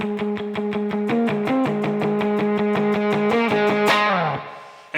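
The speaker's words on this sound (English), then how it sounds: "So we just got kind of the drive sound there, no delay, but a bit of verb." Tight, rhythmic muted chugs on an overdriven electric guitar with a touch of reverb, ending in a ringing chord that fades out.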